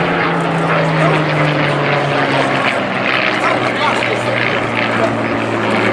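Hawker Hurricane PZ865, built at Langley in July 1944, flies over Blackpool Airshow, its propeller engine droning loud and steady with a sustained low hum, while a voice carries in the background.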